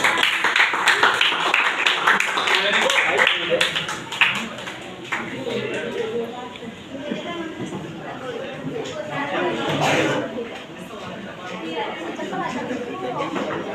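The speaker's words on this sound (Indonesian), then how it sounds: "kita kasih tepuk tangan" A classroom of senior high school students claps together, a dense sustained patter of hands that swells and fades over several seconds, with chatter mixed in.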